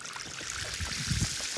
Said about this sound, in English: to hear this wonderful sound of the water running